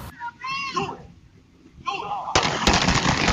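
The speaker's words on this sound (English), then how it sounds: "You hear words exchanged, then gunfire." Voices exchange a few words, then a sudden burst of loud, sharp gunshots fires in quick succession and close by.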